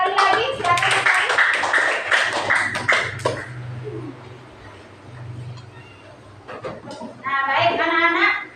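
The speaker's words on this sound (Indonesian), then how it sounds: "Ya, tepuk tangan sekali lagi, silakan sekali." Schoolchildren in a fifth-grade classroom break into a burst of clapping that fades, with a teacher and kids talking between bouts and another short round of claps at the end.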